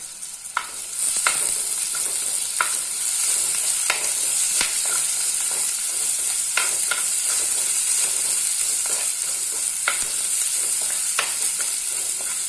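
Curry leaves fry in hot oil alongside garlic, ginger and shallots for a Kerala-style fish curry, with a loud, steady sizzle and sharp crackling pops that run the whole time.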